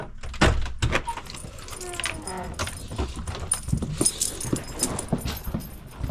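A dog approaches for a treat, with close jingling of tags or keys, soft whimpers and shuffling, plus a sharp knock near the start and light background noise.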